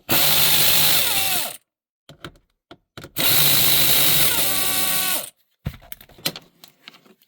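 A power drill or impact driver backs out 5 mm Allen head bolts on a 2011 Audi Q5, two long whirring bursts with clicks and handling noise between them.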